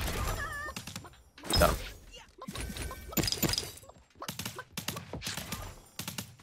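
Gunfire bursts from the video game Realm Royale, sharp cracks and volleys spread across the clip with pauses between them, with a player speaking briefly over the action.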